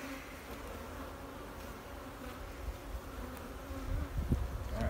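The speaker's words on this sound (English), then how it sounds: "Look at the bees, they just get so mad right there." Honey bees swarm up from an opened hive during a brood frame inspection, and their buzzing forms a steady, dense drone. It holds close and even and swells slightly near the end, with no voices over it.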